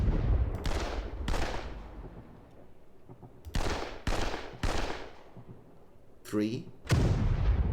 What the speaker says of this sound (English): We're being hit by artillery and stuff.